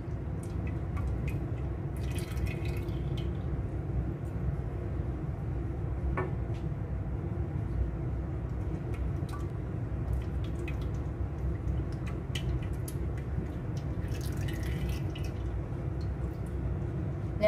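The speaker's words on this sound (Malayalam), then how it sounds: "മൂന്ന് കുപ്പി ആവണക്കെണ്ണയും ഞാൻ ഒഴിച്ചിട്ടുണ്ട്." Castor oil poured from a bottle into a cooking vessel on an unlit stove while making homemade hair oil, a soft, steady, continuous liquid flow with faint drips, close and quiet, no voices.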